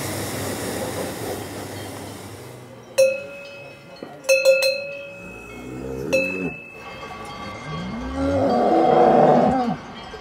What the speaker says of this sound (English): The bells which the cows wear when they go down to the valley